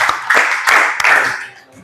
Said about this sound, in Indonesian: tepuk tangan untuk kelompok 4 ya